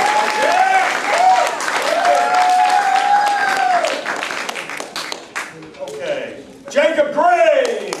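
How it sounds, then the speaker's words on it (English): Audience applause at a family martial arts center belt ceremony, steady clapping from a crowd with voices and whoops over it, fading slightly then swelling again. "they're applauding for you, so please be generous."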